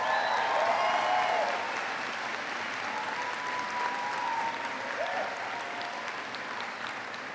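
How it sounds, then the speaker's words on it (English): A crowd at the Denison University Class of 2025 commencement ceremony applauds, a dense, sustained wash of clapping that is loudest at the start and then eases slightly while continuing steadily to the end. "Can we give her one more round of applause?"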